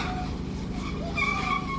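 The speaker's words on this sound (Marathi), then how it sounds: "गाडी डिस्चार्जिंग चालू आहे मित्रांनो" Cars being driven off a merchant ship during discharge give a steady engine rumble with drawn-out tyre squeals.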